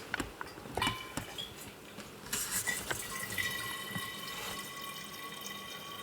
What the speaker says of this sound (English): here we are racking our 2 litres of Gamay